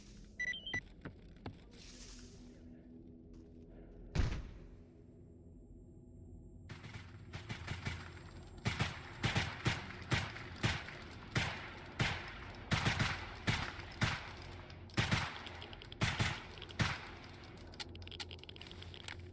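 Automatic gunfire in a STALKER video game, a quiet stretch broken by one heavy hit, then a long run of sharp, evenly spaced shots in quick bursts.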